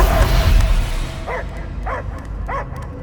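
Cosmo the space dog barking in Marvel's Guardians of the Galaxy video game: three evenly spaced, mid-distance barks over a rumbling low background.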